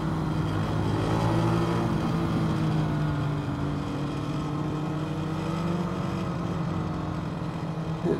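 A BMW G310GS motorcycle on Adventure tires pulls hard down a track straightaway, its single-cylinder engine droning steadily and loud throughout with a continuous, close-up roar and rising pitch, no voices.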